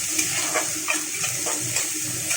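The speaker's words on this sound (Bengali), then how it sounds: "তেল গরম হয়ে গেছে, এখন আমি এখানে দিয়ে দেবো সব ফোড়নগুলো দিয়ে দিলাম, দিয়ে ফোড়নটাকে বেশ ভেজে নেব সুন্দর করে" Whole spices sizzling in hot oil, a steady close crackle and spit with faint stirring taps, no voices.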